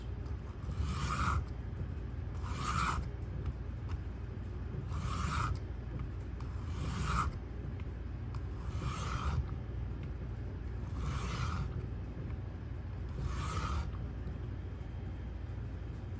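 Richter kitchen knife drawn across a sharpening stone in steady, evenly spaced strokes, about seven or eight rasping passes, close and moderately loud over a constant low background hum.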